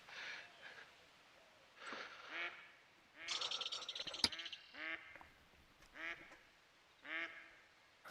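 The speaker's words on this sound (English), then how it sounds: "Level 3 golden-eyed duck on my map" A golden-eye duck in a hunting video game gives repeated raspy quacks in short bursts every second or so, moderately close, with brief louder clatters in between.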